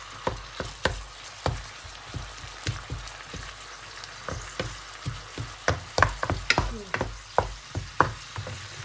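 Minced beef for a Thai curry is stir-fried in a pan. Repeated sharp scraping and clacking stirring strokes sound over a soft background sizzle, close by and with no talk.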